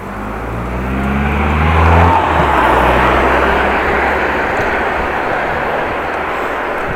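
A motorbike with a ticking fault rides along in the late afternoon, a loud, steady engine drone with wind rush that swells around two seconds and then holds at an even level, with no clear ticking standing out.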